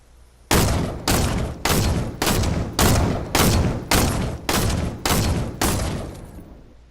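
The hand cannon (Deagle) pistol fires in Fortnite: nine loud, heavy booming shots at a steady, deliberate pace, each with a short decaying tail, with no talking.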